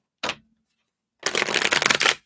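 Reading cards are shuffled by hand: a short riffle, a pause, then a longer run of rapid papery flutters and snaps, close and clear with no voice.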